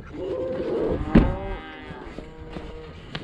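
Steers on a snowy farm give a long, low moo, then fainter lowing follows from the herd, with a brief thump partway through.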